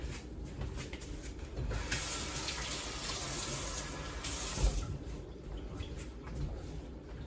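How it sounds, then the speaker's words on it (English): Kitchen sink tap running water, a steady hissing stream that swells louder in the middle and eases off, heard close with no talking. "So I'm gonna get a splash of water from the sink."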